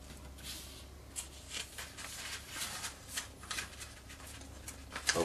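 Paper being pressed and creased while folding a paper sailboat, soft repeated rustles and scrapes close by, quiet with no talk.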